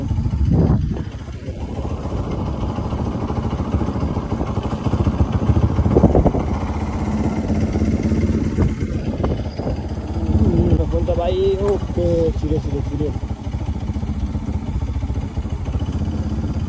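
A motorcycle engine drones steadily while riding on the way to Soreng, a loud, close, continuous rumble with clattering and wind, while someone talks over it throughout.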